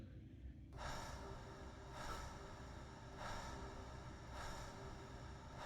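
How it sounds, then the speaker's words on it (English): A trailer music track carries slow, rhythmic breathing sounds: airy breaths swelling about once a second over a low sustained synth drone and boom, moderately loud, with no talk. "It sounds like me breathing."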